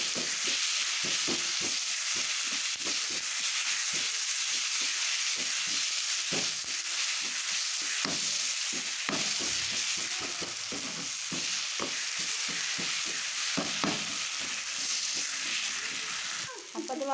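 Black pepper, cumin and green chillies sautéing in a hot pan for chicken kadai, a steady close sizzle with frequent scraping stir strokes throughout, no talking.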